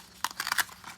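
Scissors snipping through paper cut from a deconstructed art book, a short close burst of crisp cuts and rustles, fairly quiet with no one speaking.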